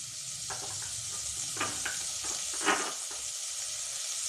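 Amla pickle mixture with jaggery being stirred and fried in a pan, a faint steady sizzle with soft scraping strokes of the spoon scattered throughout.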